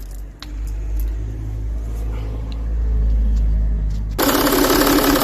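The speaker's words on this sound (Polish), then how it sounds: "Jak widzicie samochód odpalił bez problemu, bez żadnej pompy dodatkowej." A 3.0 HDI V6 diesel car engine runs with a steady, close low rumble, then a much louder, broad roar takes over for the final second. No one speaks.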